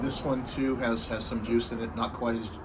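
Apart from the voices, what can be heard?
None of the usual background noises is heard.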